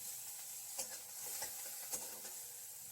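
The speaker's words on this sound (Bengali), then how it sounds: "এবার সর্ষের তেল কড়াইয়ের মধ্যে দিয়ে দিলাম দিয়ে এবার পেঁয়াজ আর লঙ্কাটাকে ভেজে নেব" Onion and green chilli fry in mustard oil in a wok: a soft, quiet sizzle broken by a few brief scraping stirs, with no talking.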